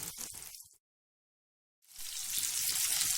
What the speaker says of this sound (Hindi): टिक्कों को फ्राई होते हुए तकरीबन 15 मिनट से ज़्यादा हो गए हैं